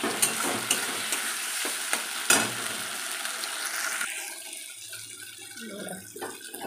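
Ginger, garlic, tomato and spices frying in a pan, close crackling sizzle with repeated stirring scrapes that thin out into a quieter, wetter bubbling toward the end; no talking.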